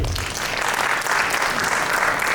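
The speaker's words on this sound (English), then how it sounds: "Please give a round of applause for him." Applause from a TEDx talk audience at a sustainable development event, a dense, loud and continuous clapping that fills the room from start to finish.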